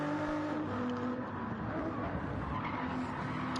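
GT3 race cars battling at Road Atlanta in a racing video game, a steady roar of engines with tire squeal and skidding under braking, loud and continuous throughout.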